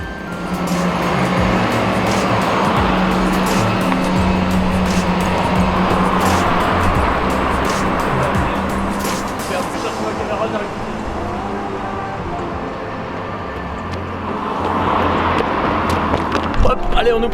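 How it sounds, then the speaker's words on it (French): A car on a French roadside slows and pulls up beside hitchhikers, its engine and tyre rumble loud and close, then easing off before rising again, with speech in the mix. "Je venais à peine de lever le pouce qu'une voiture s'est arrêtée."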